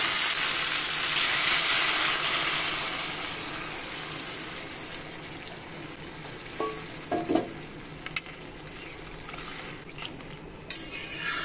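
Fish curry masala, fried down in oil for a Bengali bata fish jhol with drumsticks, sizzles steadily in a pan as water goes in, the hiss easing over time, with a few light utensil clinks near the end.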